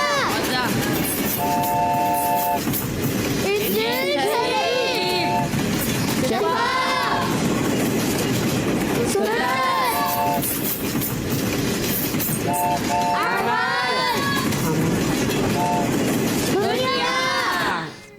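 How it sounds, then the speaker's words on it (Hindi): A train sound effect on a TV quiz show: rhythmic clickety-clack wheels under repeated horn blasts, loud and continuous, while voices talk over it throughout. "जी अहमद, मोहम्मद अहमद, ट्रेन चलाइए, सफर आगे बढ़ाइए"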